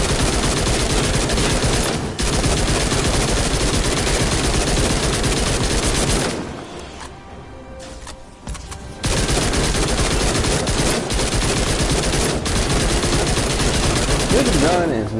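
Rapid, sustained gunfire from a weapon in Fortnite Save the World, loud and dense, broken by a short lull around the middle before the shooting resumes at full intensity.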